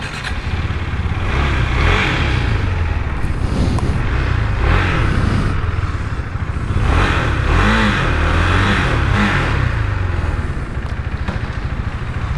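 A KTM Duke 390 motorcycle engine starts and revs close by, its loud, steady mid-pitched drone swelling in repeated throttle blips with no talk over it.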